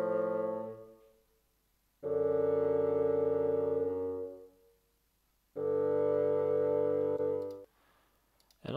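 Bassoon in an orchestration demo, three long low reedy sustained notes separated by pauses, full and close, with no one talking.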